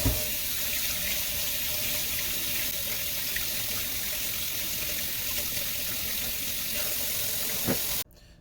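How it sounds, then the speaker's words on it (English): Running tap water pours into a kitchen sink as potatoes are washed underneath, a steady close splashing hiss that stops abruptly at the end. "The first thing I'm going to do is wash my potatoes."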